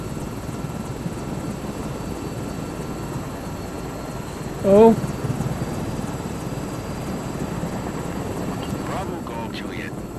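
Helicopter in Microsoft Flight Simulator 2024, a steady broadband rotor and engine drone holding constant throughout, with a short vocal exclamation partway through.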